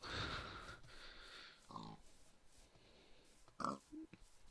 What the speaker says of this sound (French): Cochon!